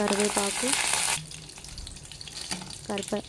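Cumin seeds hit hot oil in a pan with a loud burst of sizzling and crackling that quickly settles into a softer, steady frying hiss, with brief stirring clatter.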